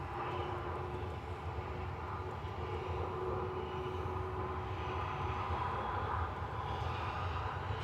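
An Airbus A350-900 jet bound for Singapore rumbles at Manchester Airport, its engines a steady broad roar with a faint thin whine held throughout at moderate distance.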